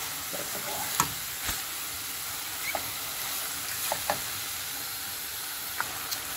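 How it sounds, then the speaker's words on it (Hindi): Chicken pieces seasoned with black pepper, red chilli, oregano and salt are stir-fried in a pan, giving a steady low sizzle broken by scattered scrapes and knocks of a spoon against the pan, with no talking. "अब हम इसको अच्छे से मिक्स करते हैं और भूनते हैं।"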